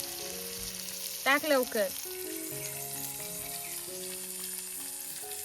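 Onion and tomato sautéing in a pan over a cooking fire, a faint, steady sizzle beneath a short spoken phrase and a few scattered tonal background sounds.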